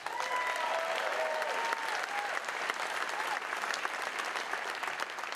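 Applause for the Mayor of Kauai, Derek Kawakami, at a Maui State of the County address, sustained dense clapping from a large audience with a few whistles near the start.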